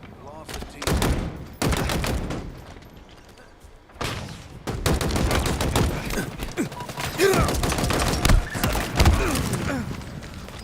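Commando rifle bursts in Halo Infinite multiplayer, repeated loud rapid volleys with mechanical clatter and thuds, near and dense, with a brief lull before the firing resumes.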